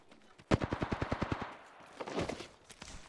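Rapid automatic gunfire in the video game Apex Legends: a tight burst of about a dozen evenly spaced shots, loud and close, followed by scattered softer game noise.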